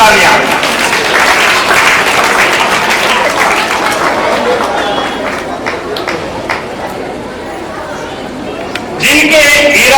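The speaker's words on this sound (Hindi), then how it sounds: "एक बार इनके लिए जोरदार तालियां।" Loud applause from a school audience at an Independence Day celebration, with crowd chatter mixed in, dipping briefly before swelling again at the end.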